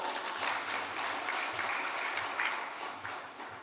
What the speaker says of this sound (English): Shall we welcome Doc now with a round of applause